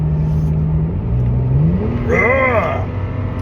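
4-liter V6 with MBRP catback exhaust, idling with a low burble, then a quick rev that swells into a throaty roar and falls back, close and fairly loud.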